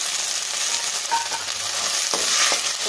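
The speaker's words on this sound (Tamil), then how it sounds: "நல்லா ஃப்ரை ஆகட்டும். எண்ணெயிலே கொஞ்சம் ஃப்ரை ஆகட்டும்." Chickpeas for sundal frying in hot oil, with a loud, continuous sizzle and occasional stirring scrapes, close by and without speech.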